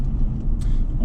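A car rolls slowly on a sighting lap around a site with heavy goods vehicles about, its low engine rumble and road noise steady and close from inside the cabin, with no speech.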